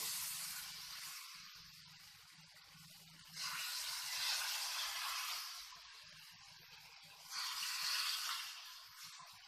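Jowar (sorghum) dosa batter sizzles on a hot pan in steady hissing spells, with two louder surges as more batter or oil hits the surface, heard close and alone.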